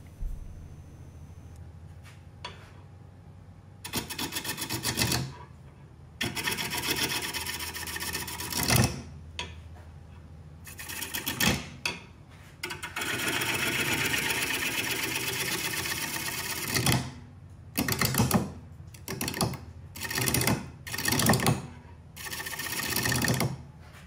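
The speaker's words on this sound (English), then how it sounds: "I'm starting off with my 5/8 inch bowl gouge" Woodturning a black locust bowl on a lathe with a 5/8 inch bowl gouge, the lathe humming under repeated bursts of rough, scraping cuts that start and stop irregularly, fairly close and moderately loud.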